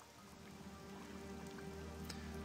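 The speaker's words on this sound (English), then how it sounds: "And now it's raining." Steady rain falling in the game Morrowind, a soft continuous patter with scattered droplet ticks, moderately quiet and even throughout with no voices.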